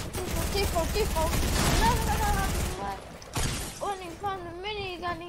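Dense bursts of video game gunfire crackle over a low rumble for nearly three seconds, then break off into sparser shots, with a voice speaking throughout.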